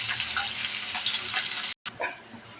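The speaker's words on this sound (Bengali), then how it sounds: "পেঁয়াজটা আমি ভালোভাবে ভেজে নেবো" Chopped onion and green chili fry in oil in a pan for koi fish bhuna, giving a steady, moderate crackling sizzle that briefly cuts out before resuming.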